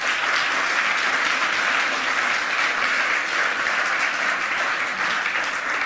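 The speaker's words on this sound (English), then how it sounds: "Please give her a warm round of applause of welcome." Audience at a privacy-technology conference talk applauds steadily to welcome a speaker, a dense, even wash of clapping lasting throughout with no pauses or voices.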